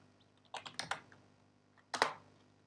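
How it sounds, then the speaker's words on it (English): A computer keyboard is tapped in a quiet room: one short run of five or six crisp, close keystrokes, a pause, then one more sharp key click. "we'll type here output directory"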